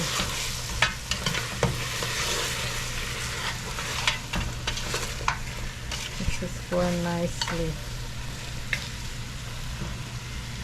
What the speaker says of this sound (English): Let this fry nicely now.